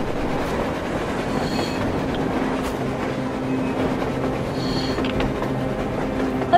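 A train in the game Metro Exodus rumbles past close by, steady and loud, with rhythmic wheel clatter and faint metallic squeals, no voices.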